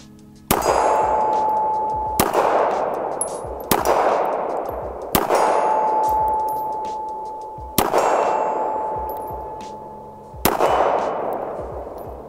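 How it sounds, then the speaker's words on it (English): Six .380 ACP pistol shots from a Beretta 80X Cheetah, fired at a measured pace during steel target transitions. Each sharp report is followed by a ringing metallic clang from a hit steel plate. "we're shooting the Spear Gold Dot now. We'll do some target transitioning."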